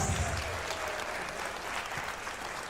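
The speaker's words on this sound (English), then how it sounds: "Big round of applause for your" Audience applause for weightlifting medalists at a summer open meet, steady dense clapping that holds at an even level throughout.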